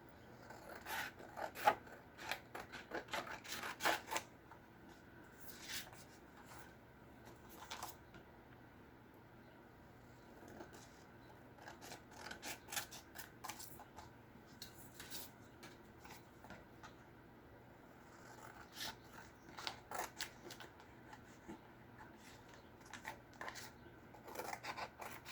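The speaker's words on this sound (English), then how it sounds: "And now I'm going to cut this out" Scissors cut out a paper paint-swatch tag in repeated short, dry snips and rasps up close, coming in irregular clusters with quiet pauses between, and no talking.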